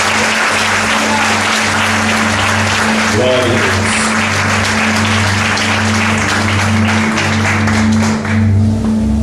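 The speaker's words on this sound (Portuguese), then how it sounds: "Dê uma salva de palmas para Jesus." A church congregation applauds in praise at a youth congress, a broad steady wash of clapping running throughout with music sustaining underneath and a voice briefly calling out over it.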